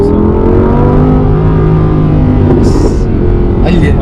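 A 2017 Audi R8 accelerates with a loud, sustained engine roar heard from inside the car, the pitch climbing steadily, with a brief higher burst of noise near the end.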